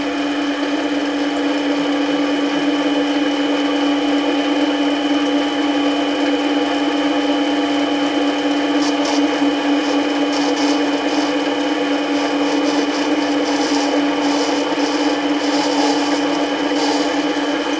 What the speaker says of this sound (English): now we're going to go ahead and use a little lathe